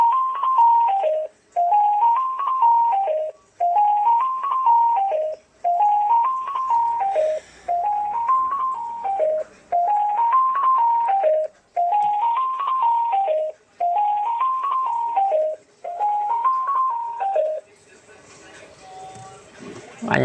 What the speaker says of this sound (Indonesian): Ini belilah jam alarm seperti ini.